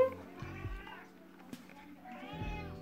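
A house cat meows twice, close and fairly soft, with a pause between the calls in a quiet indoor room.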